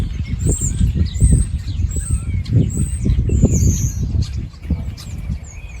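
A dense, busy chorus of small birds chirping and rustling in thick cover, continuous and fairly close, with a low rumble of background noise.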